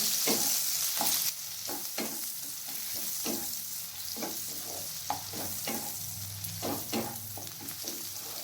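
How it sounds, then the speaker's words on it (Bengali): Chopped onion, one medium onion, sizzling in hot oil in a pan for a kabuli chana curry, a steady frying hiss broken by regular scrapes and clacks of a spatula stirring, close and alone with no talk. "পেঁয়াজটাকে গোল্ডেন কালার আসা পর্যন্ত ভেজে নিতে হবে।"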